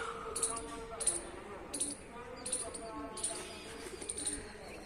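Pigeons, including young birds and a large adult, coo softly with repeated short, high chirps about every second, faint and close in a quiet outdoor setting.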